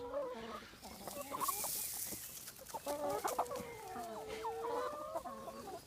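A small flock of hens clucks steadily up close, overlapping calls rising and falling in a busy, continuous chatter.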